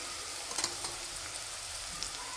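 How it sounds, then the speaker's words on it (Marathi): Sliced onions and green chillies sizzle steadily in hot oil in a pan, a constant close frying crackle with a few soft stirring clicks, heard on its own. "कांद्याला छान असं लाल होईपर्यंत मी भाजून घेते तेलामध्ये"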